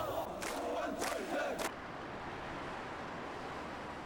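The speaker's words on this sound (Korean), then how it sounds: "민주주의를 향한 함성이 거리를 달궜던" A distant crowd of 1987 South Korean pro-democracy street protesters roars and shouts in surging waves for under two seconds, then gives way to a steady outdoor hiss.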